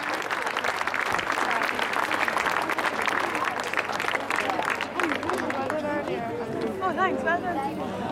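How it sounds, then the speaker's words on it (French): A crowd at a show-jumping prize ceremony applauds the winner, Camille, with dense, sustained clapping that thins toward the end as chatter and an announcer's voice take over. "Et je pense que les applaudissements seraient encore les bienvenus pour Camille."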